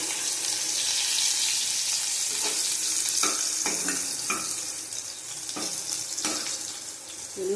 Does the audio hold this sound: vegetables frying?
yes